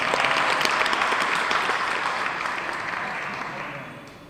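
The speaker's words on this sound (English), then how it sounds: "let's clap for him" Applause rises from an audience at a spiritual class, a dense wash of clapping that starts full and slowly fades out over several seconds.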